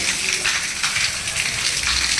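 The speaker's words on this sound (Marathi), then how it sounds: "पाऊस आला मी मंदिरात थांबलो." Rain falls steadily as a dense, even hiss, heard from shelter at a temple beside fields and forest, with no voices.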